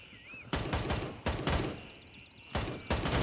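Gunfire in the Gray Zone Warfare video game: loud, sharp bursts of shots cracking out at irregular intervals over a faint, steady background hum.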